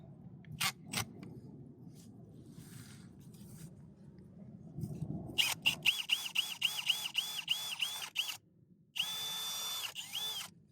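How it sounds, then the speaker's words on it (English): A power drill whirs in several short bursts, starting and stopping, then runs steadily with a high whine as it bores a 5 to 6 mm hole to unblock an air conditioner drain. "So we get our drill. We drill this."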